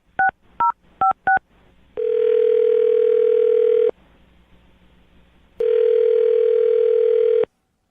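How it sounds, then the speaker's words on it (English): A telephone number is dialed with four quick keypad beeps, followed by two long, steady ringback tones separated by a quiet gap. "we'll dial her phone number right now, see if she answers"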